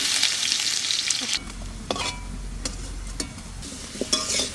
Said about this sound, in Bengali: তেলটা গরম হয়ে গেছে, এবার আলুগুলো ছাড়বো। আলুগুলো ভেজে নেব।